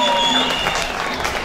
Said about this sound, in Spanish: Un aplauso para ustedes mismos, gracias.